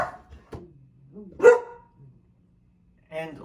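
Dogs barking in a short burst: a sharp bark near the start, a louder strained yelp or bark in the middle, and another bark at the end, with quieter gaps between.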